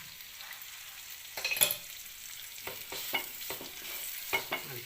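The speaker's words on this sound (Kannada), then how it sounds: "ತುಪ್ಪ ಹಾಕೊಂಡಿದ್ದೀನಿ ಈಗ ಸ್ವಲ್ಪ ಬಿಸಿಗೆ ಮೆಲ್ಟ್ ಆಗ್ತಾ ಇದೆ" Dates and dry fruit mixture frying in melting ghee in a pan, a low steady sizzle broken by several sharp stirring scrapes and clatters, close and fairly quiet.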